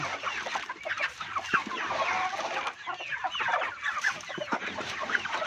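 Chickens on a farm cluck steadily in an overlapping chorus, close and moderately loud, with scattered sharper calls throughout.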